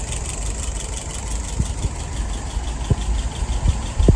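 An engine idles at about 630 rpm, giving a steady low rumble with a light mechanical ticking and a few soft knocks, close and continuous throughout.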